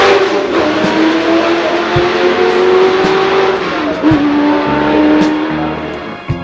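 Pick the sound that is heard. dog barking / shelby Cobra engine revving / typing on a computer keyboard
shelby Cobra engine revving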